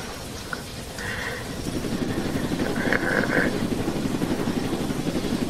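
Helicopter in a Roblox game, a steady low rotor chop that grows louder and holds, with a few faint tonal beeps over it and no talk.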